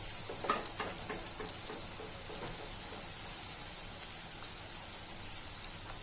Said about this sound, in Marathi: कांदा छान गुलाबीसर होईपर्यंत परतून घ्यायचा